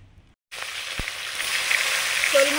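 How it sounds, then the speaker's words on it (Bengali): Salted, turmeric-rubbed snakehead fish head dropped into hot oil in a pan, a sudden burst of loud, steady sizzling that grows slightly over a couple of seconds after a brief silence, with no talking. "শোল মাছের মুড়োটা নুন হলুদ মাখিয়ে ভেজে নিচ্ছি।"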